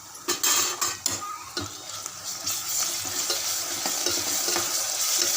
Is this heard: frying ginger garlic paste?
yes